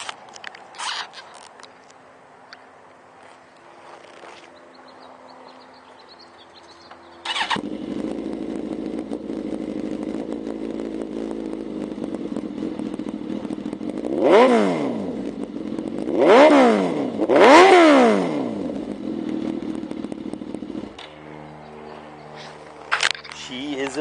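A used 2006 Suzuki GSX-R1000 superbike with an M4 exhaust idles loudly, then is revved in three sharp rising-and-falling bursts before settling back to idle, recorded close up.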